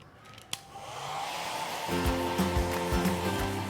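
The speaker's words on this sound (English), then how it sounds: "we actually finish off making sure she's really dry with a hairdryer" A hair dryer dries a tortoise after a wash, blowing with a steady rushing whoosh, its motor hum growing louder and more tonal partway through, close and continuous.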